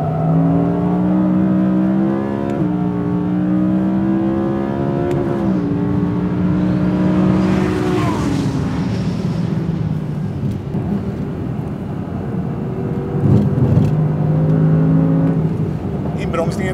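Audi R8 V10 Plus engine pulling hard on the Kinnekulle Ring race track, a steady loud rising roar with gear changes and sustained revving heard from inside the car, while someone talks over it throughout.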